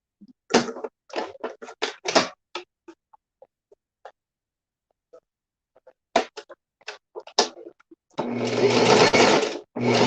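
A domestic sewing machine stitches fabric in short bursts of rapid mechanical clatter, separated by pauses, then a longer steady run at the end, close and clear.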